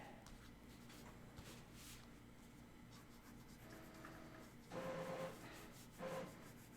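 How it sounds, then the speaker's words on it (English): A printer runs its self-cleaning cycle, heard as a low, steady mechanical whir and rubbing that swells into two louder grinding bursts near the end, with no talking. "I'm sorry if you guys can hear my printer going crazy behind me."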